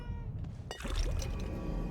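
A cat meows in the horror game The Evil Within 2, a short cry rising over a faint trickle of water and low ambient noise, with no talk.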